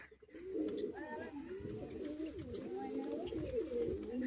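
Pigeons in a Bagnan loft coo in soft, repeated rolling calls that overlap one another close by, while a person speaks quietly in the background.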